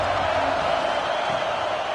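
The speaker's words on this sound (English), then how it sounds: "This crowd ready to make its presence known" Stadium crowd in the college football video game NCAA 26, a steady dense roar of many voices from a packed stand, continuous and fairly loud with no distinct cheers or breaks.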